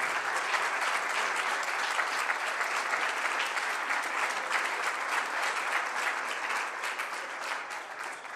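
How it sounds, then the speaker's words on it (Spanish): Sustained applause from a conference audience at a COECYS 2007 talk on open source, a thick, even roar of many hands clapping that holds steady and tapers slightly near the end. "Un fuerte aplauso, por favor, para él"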